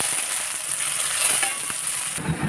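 Onions frying in a pan with cardamom, cinnamon and cloves, a bright, steady close-up sizzle with soft stirring scrapes, heard alone.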